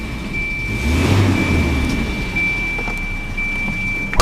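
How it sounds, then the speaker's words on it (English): A 1992 Volvo 240DL engine catches and settles into a steady low idle, loud and close, with a thin whine running throughout and a short knock at the end. "Just insert the key right here. And it starts up absolutely perfect."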